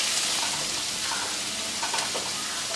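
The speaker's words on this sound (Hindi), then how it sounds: "तेल गरम हो चुका है, अब हम इसमें डालते हैं 1 टेबलस्पून क्रश किया हुआ लहसुन और अदरक" Crushed garlic and ginger fry in hot oil in a pan while a Goan chicken vindaloo is cooked, giving a soft, continuous sizzle with a few brief crackles.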